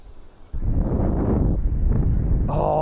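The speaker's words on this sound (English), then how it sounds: "Oh, this wind." Gusting wind buffets the microphone while someone sits in a fishing kayak, a sudden loud rumbling blast that starts after a brief quiet moment and keeps pushing steadily.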